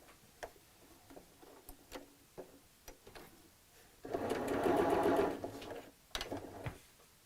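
Scattered light clicks and ticks lead into a single sustained burst of sewing-machine stitching along a bolster cushion border, close and moderately loud, followed by a few more clicks as the machine stops.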